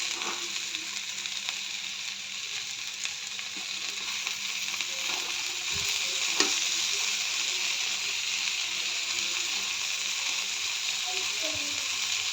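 Tomatoes fry in a pan with a steady, continuous sizzle and hiss, broken by occasional stirring clinks, close and moderately loud.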